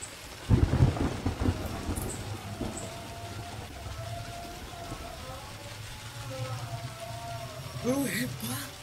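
A rainstorm with a heavy thunder rumble near the start, then steady rain hiss under faint tonal background sounds and voices late in the clip.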